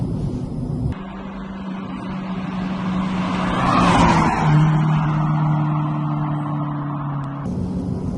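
A turbocharged 380 bhp front-wheel-drive Honda Civic Type R EP3 accelerates hard on a country road from 3,000 rpm, its engine a steady droning note that swells midway, heard from inside the car.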